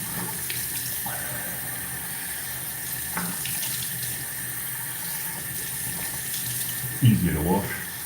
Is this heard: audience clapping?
no